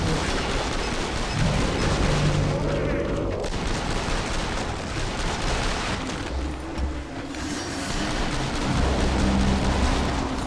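The AA-12 automatic shotgun fires in Killing Floor 2 as a dense, loud barrage of rapid booming blasts. Heavy combat noise runs continuously underneath and someone talks over it throughout.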